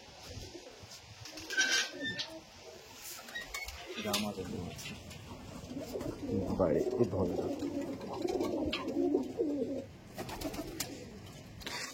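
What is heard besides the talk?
pigeons cooing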